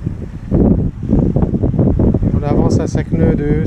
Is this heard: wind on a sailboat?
yes